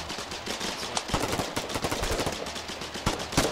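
Rapid gunfire in the online war game Foxhole crackles in dense bursts of automatic and single shots, overlapping and continuous at moderate loudness.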